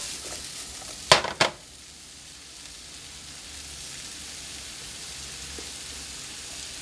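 Vegetables and shallots hit melted butter in a pan with two sharp bursts, then settle into a soft, steady sizzle close by.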